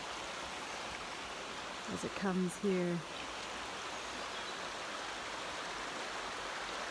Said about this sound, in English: So as I'm hearing the water,